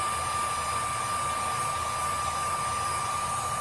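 A heat gun warms the center of a Kydex sheet for a sheath, giving a loud, constant close-up blowing roar with a thin steady whine running through it and no voices.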